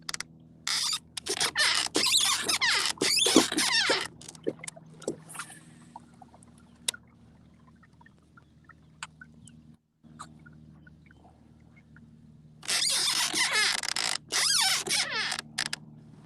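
A Hobie kayak pedal drive squeals loudly while fishing along a grass line from a kayak, with harsh bursts of screeching at the start, a quieter stretch of scattered creaks, then another loud screaming burst near the end.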